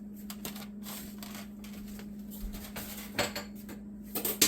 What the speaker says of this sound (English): Then I'm going to get my wooden spoon.